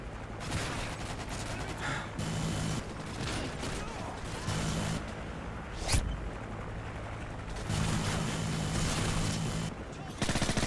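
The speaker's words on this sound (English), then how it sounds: "that hit marker sound is so crispy" Rapid gunfire and crisp hit-marker clicks from an older Call of Duty match, with dense, loud bursts of automatic fire running almost continuously and one sharp close blast near the middle.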